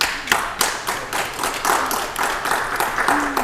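Applause from a small audience at a British antiques quiz show: sparse, distinct claps with a slow uneven rhythm, close and moderately loud, suggesting only a few people clapping.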